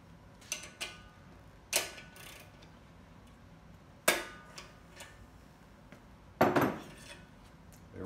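A Short Action Customs Modular Action Wrench breaks a rifle barrel loose from its action in a barrel vise, giving a few sharp cracks and clicks spread over several seconds against a quiet background.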